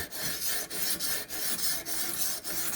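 A knife blade being sharpened on Ruixin Pro RX-009 whetstones, rhythmic rasping strokes roughly every half second, close and even, with no talking.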